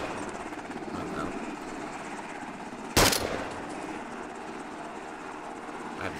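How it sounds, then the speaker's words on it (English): A helicopter rotor drones steadily in the Arma 2 video game, a dense continuous roar broken midway by one loud sharp burst like a shot or explosion. "how to disable the helicopter's tail rotor"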